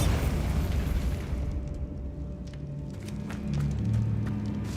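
Bombarda blasting spell detonating in Hogwarts Legacy, a loud booming burst with deep rumble that swells again later, layered over steady game ambience with no talk.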